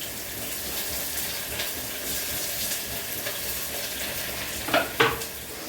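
Chopped onions, one large and one small, sizzling in hot oil for a mutton curry, a steady close crackle with stirring and two sharp clinks near the end, no voices.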